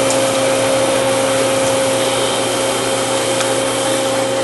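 A Monarch 20x126 heavy-duty engine lathe runs steadily nearby with a loud, constant mechanical whir and a sustained whining tone, and no one speaks.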